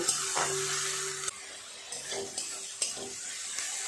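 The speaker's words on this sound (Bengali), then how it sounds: "2-3 মিনিট সময় নিয়ে ভালো করে আদা রসুন পেঁয়াজ এইভাবে নেড়ে চেড়ে কাঁচা গন্ধটা কাটিয়ে নিয়েছি" Ginger, garlic and onion paste stirred in a hot pan for bhetki fish kalia: a steady soft sizzle under intermittent spatula scrapes and knocks against the pan, close by, with no talking.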